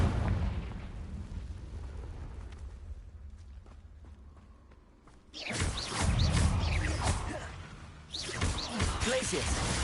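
Confringo fire-blast spells go off in Hogwarts Legacy, as two loud, roaring explosive bursts that break a quieter, rumbling stretch, the second following closely after the first.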